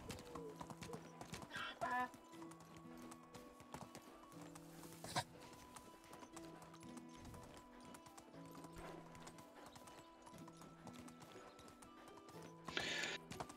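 Horse hooves clip-clop at a steady walking rhythm in the medieval survival game Medieval Dynasty, fairly faint and continuous, with a brief snort or whinny near the start and end.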